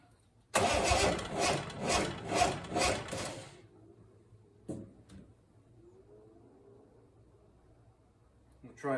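A Triumph TR6 engine cranking over on its first start attempt after a rebuild, a loud rhythmic churn of about five pulses, then quiet with faint clicks and a short thump.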